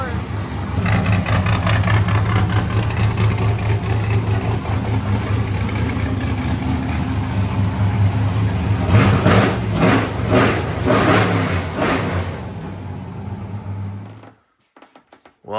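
A cammed LS V8, a $100 engine swapped into a Cadillac 4x4, runs with a steady, lumpy idle. A series of sharp revs comes through the middle, then the engine abruptly shuts off.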